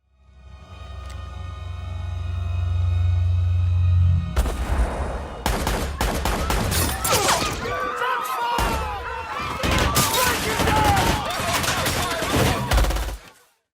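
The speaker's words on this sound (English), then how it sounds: "we finally get a big shootout" Gunfire in a big movie shootout from Max Payne: a low rumbling intro gives way to dense, loud bursts of rapid shots, bangs and impacts that continue almost without a break.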